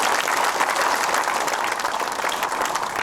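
A crowd applauds journalists at a public event, with continuous, loud, even clapping throughout and no voices rising above it.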